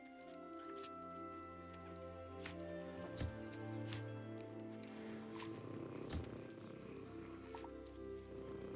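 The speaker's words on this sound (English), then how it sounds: "They sound like cats when you're nice to them." Creatures in the Hogwarts Legacy video game purr softly like cats. Two louder squeaky calls rise above the purring, and a low game ambience with tonal hums sits underneath.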